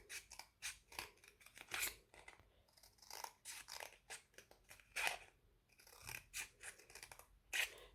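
Scissors snip repeatedly through a cardboard toilet paper roll to cut legs for a paper spider craft, a brisk series of close, crisp crunching cuts with brief pauses.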